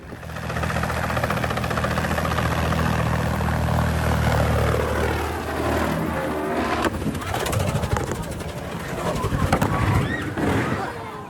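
A loud helicopter engine drones with a heavy low throb, then the pitch wavers and sweeps unevenly as the rotor noise shifts while it spins out of control near a California beach, ending in chaotic bursts of its crash.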